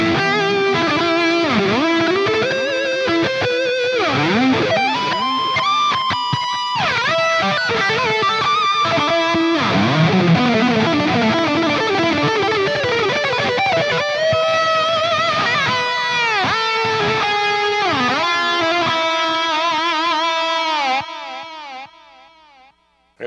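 Electric guitar played continuously through an amp modeler with a delay effect, notes repeating and trailing into each other, loud and close, then fading out at the end.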